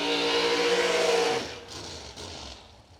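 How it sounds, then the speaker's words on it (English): A drag racing dragster engine roars loud and close at the start of a run, a sustained high-pitched blast that cuts off after about a second and a half, leaving a fainter fading rumble. "So away we go with dragster action"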